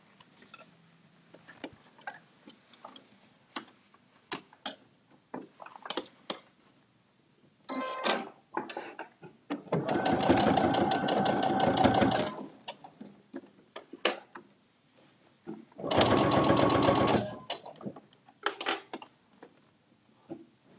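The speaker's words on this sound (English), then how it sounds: "we're going to start sewing from the bottom of the pocket to the top." A sewing machine stitches a fabric bag pocket from bottom to top, with two steady whirring runs of stitching separated by scattered clicks and handling noises close by.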